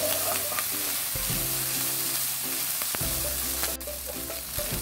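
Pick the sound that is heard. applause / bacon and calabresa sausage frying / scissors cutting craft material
bacon and calabresa sausage frying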